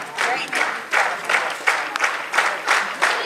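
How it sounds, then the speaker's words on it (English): A wrestling crowd claps in steady unison, about two or three claps per second, loud and continuous throughout, cheering on a wrestler during a match. "Crowd definitely behind Zane Stevens with that clap"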